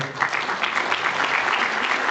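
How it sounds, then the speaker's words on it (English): An audience applauds a panel at an event, steady close clapping filling the whole stretch without talk. "Ladies and gentlemen, a round of applause for our panel"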